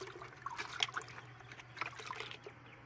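Water rinsing a metal part pulled from an engine with a breather, a soft splashing trickle in uneven spurts, fairly close and quiet, with no voices.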